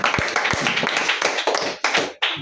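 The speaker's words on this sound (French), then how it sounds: "Nous acclamons fort pour la gloire de Dieu" A congregation at a children's Sunday school church service claps in quick uneven bursts, close and lively, with voices mixed underneath.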